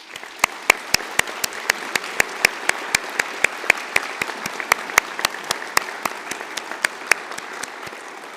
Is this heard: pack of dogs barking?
no